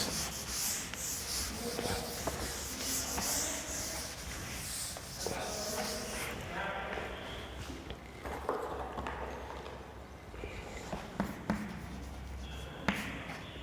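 A chalk duster rubs across a classroom board with dense, scratchy swishing strokes, close and steady, joined by some light knocks and tapping toward the end.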